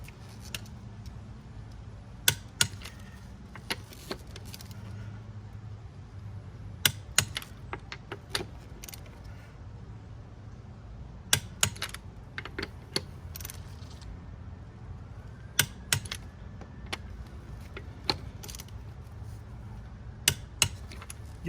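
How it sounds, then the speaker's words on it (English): Torque wrench tightening the lug bolts on a 2010-2016 B8/B8.5 Audi S4 to 90 pound-feet in a star pattern, heard as sharp, scattered clicks and ticks over a low steady hum. "Grab yourself a torque wrench and set it to 90 pound-feet. And tighten the lug bolts in a star pattern."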